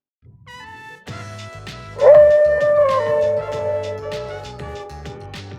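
A Shiba Inu dog howls in the video game Persona 3, rising into a long, loud, wavering howl over game music with a steady rhythmic backing.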